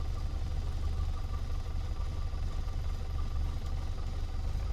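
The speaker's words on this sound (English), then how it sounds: "As the engine splutters into life, push the primer knob in slowly and slightly advance the throttle to keep the engine running" The engine of a Piper PA-38 Tomahawk in Microsoft Flight Simulator runs at a steady, low idle after starting, a continuous even rumble throughout with no talking.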